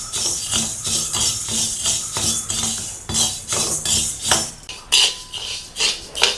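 Black pepper and cumin being stirred as they dry-roast in a thick, heavy pan, with a steady run of metallic scraping and clinking strokes from a spoon against the metal, close and fairly loud, with no voices.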